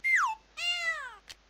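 A cat meows twice from an interactive children's alphabet book: a short falling mew, then a longer, brighter meow, followed by a faint click, close and clear with no talk.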